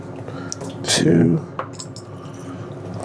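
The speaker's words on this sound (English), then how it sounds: "we want to rinse our vial with distilled water 3 times." A small glass lab vial rinsed with distilled water during chlorine sample analysis at a wastewater plant, a brief splashing swirl of water, close by and mid-loud, with a person speaking briefly.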